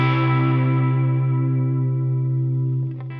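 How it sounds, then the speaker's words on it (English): Sustained electric guitar chord ringing out with a shimmering, wavering modulated delay, fading slowly with a few faint plucks near the end. "I'm going to use some modulated delays"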